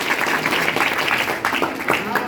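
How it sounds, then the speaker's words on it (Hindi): An audience claps for a doctor at a birthday program, a loose burst of applause from a crowd indoors, with a voice speaking over the clapping. "जोड़ा ताली डॉक्टर साहब के लिए"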